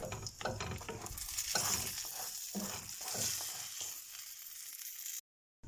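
Lavash flatbread frying in a hot pan for breakfast, a steady hiss with occasional crackles and spatula scrapes, then a brief cutoff near the end.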